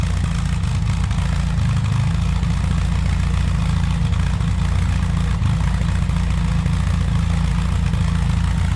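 A 1960 Austin-Healey Sprite convertible's 1275cc inline four-cylinder engine idles steadily and close by, a continuous low rumble with a faint clatter that holds even throughout, with no talking.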